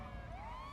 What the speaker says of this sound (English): So some people might not pay much attention to our regular sirens.